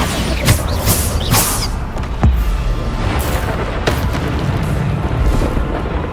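Bombarda explosive spells go off in Hogwarts Legacy over a dense, loud game soundscape, with several heavy booming blasts rising above a constant rumbling roar.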